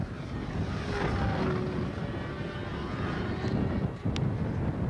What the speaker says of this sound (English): This is the world's first electric official flight by Mike Palco from the Philadelphia Club.